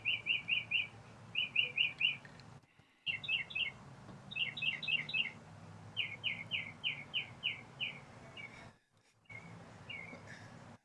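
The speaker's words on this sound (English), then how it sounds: "I hear the birds chirping and everything in there." Small birds chirp outdoors in quick, repeated trills of bright tweets, clear and fairly close, separated by short pauses against a low background rumble.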